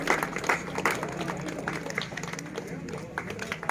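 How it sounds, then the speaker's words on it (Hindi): Guests clapping at the opening ceremony of a library and general store, a dense, continuous patter of many hands at middle distance, holding steady for nearly four seconds with some voices mixed underneath. "रतन भाई साहब तालियां बजाते रहो"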